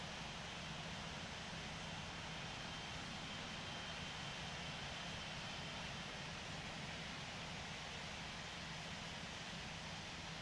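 Airliner in a flight simulator game rolls for takeoff from runway 09 right at London Heathrow, its jet engines holding a steady, even roar with no break and no voices.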